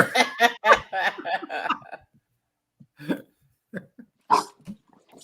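A dog makes a few short, sharp sounds, close by and fairly loud, right after a stretch of people talking, with brief pauses between them.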